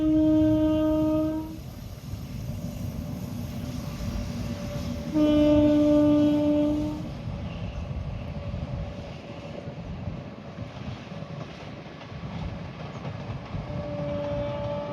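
A train bound for Rajahmundry rumbles past steadily, sounding two long loud horn blasts, one at the start and one midway, with the rolling rumble continuing underneath and a faint third horn at the close.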